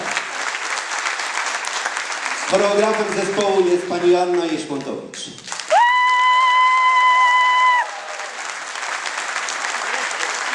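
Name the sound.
audience applause for a Kashubian song and dance ensemble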